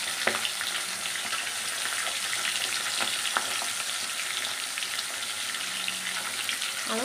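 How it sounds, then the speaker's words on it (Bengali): Fish pieces fry in a pan of oil, giving a continuous close sizzle with occasional sharp pops and spatters over the whole stretch, no voices. "ভাজা টাজা করে নিই।"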